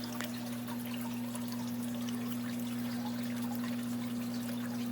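Brackish water pours from one fish tank into another as a steady, faint trickle and splash over a constant low aquarium hum, with no talking.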